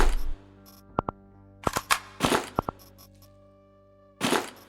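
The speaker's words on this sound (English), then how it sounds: "Might as well use the shotgun." Shotgun blasts in the video game Quasimorph, a few sharp isolated bangs and mechanical clacks separated by short gaps, punchy and close with game interface tones ringing between them.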